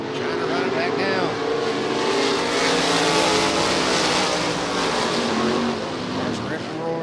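305-class race cars in a heat race roar around the track, a loud, continuous engine drone whose pitch rises and falls as cars sweep past close by.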